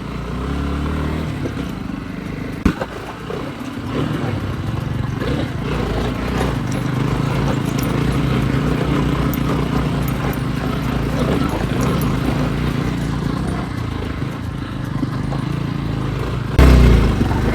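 A motorcycle labouring uphill on a steep off-road mountain trail toward a waterfall, engine droning loud and close throughout with rough bumps and clatter, while a rider talks over it.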